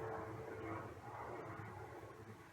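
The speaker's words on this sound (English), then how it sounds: "There's a plane coming, and the doors to the yard are open." An airplane passes overhead and is heard from indoors through open doors to a yard as a steady, distant, low engine rumble that fades slightly toward the end.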